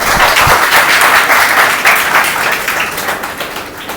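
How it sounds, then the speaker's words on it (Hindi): A large seated crowd at a network marketing event bursts into loud, sustained applause, a thick even roar of clapping that swells early and tapers slightly toward the end, with no talking over it. "एक बार इसके लिए जोरदार तालियां।"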